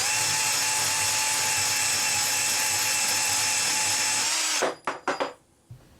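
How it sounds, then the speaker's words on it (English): Face milling with a carbide insert bit produces a loud, steady high-pitched whine that cuts off abruptly partway through, followed by a few short clanks and then quiet. "I got a carbide insert bit and I'm doing a face milling type of operation."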